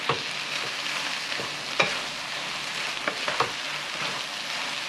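A vegetable stir-fry simmering in sauce in a pan gives a steady, close sizzle and bubbling, with a few sharp clicks of stirring scattered through and no talk.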